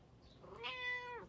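A house cat gives a single drawn-out meow, rising then falling, moderately close and fairly quiet against a calm room background with no talk.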